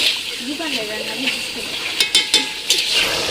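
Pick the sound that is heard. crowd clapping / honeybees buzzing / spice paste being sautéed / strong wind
spice paste being sautéed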